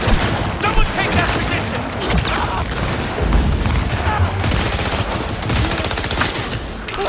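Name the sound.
gunfire in Cyberpunk video game battle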